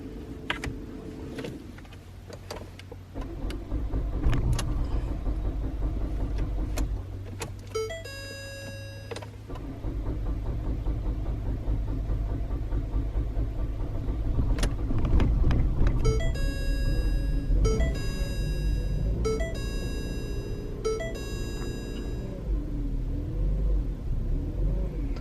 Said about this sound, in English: we're going to just go ahead and start the car